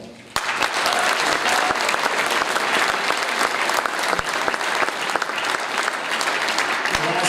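Sustained, dense applause from a crowd at a high school football banquet, loud and continuous, with a few sharp claps standing out near the start and throughout.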